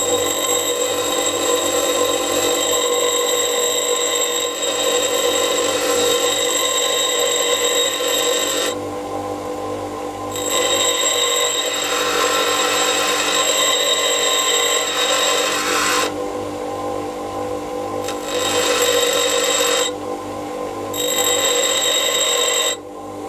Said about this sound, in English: So just using the bench grinder.